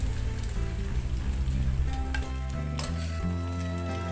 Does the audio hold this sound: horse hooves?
no